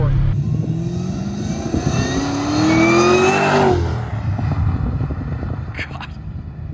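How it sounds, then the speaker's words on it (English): A supercharged LS3-swapped BMW E39 pulls hard in second gear with wheelspin, the engine note climbing loud and close before easing off into a rumbling cruise. "In second gear, it's spinning as it's accelerating."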